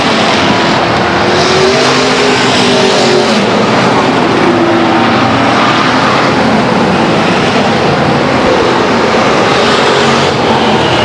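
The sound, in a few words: race cars on Stockton 99 Speedway quarter-mile oval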